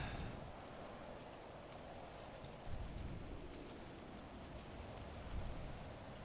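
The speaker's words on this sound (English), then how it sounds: "Let's get out of the rain." Constant rain patters down in a video game world, a soft broadband wash of drops with a couple of slightly louder gusts, heard alone at low level.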